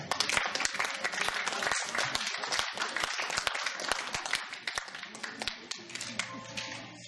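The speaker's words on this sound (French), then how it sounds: "Je vous remercie d'applaudir Nicole." An audience at a stage show claps for a performer, a lively burst of scattered, distinct hand claps that tapers off near the end as a voice briefly begins.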